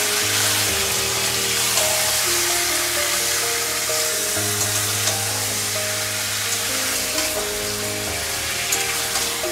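Marinated mutton sizzles and fries in a hot pan with spices for biryani. It is a dense, steady sizzle that carries on with no break, and faint clinks come through now and then.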